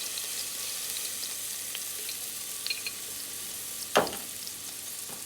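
Garlic and pepper fry in oil in a pot for a spicy tofu stew, giving a steady bright hiss of sizzling. Near the end a short stirring scrape briefly cuts through.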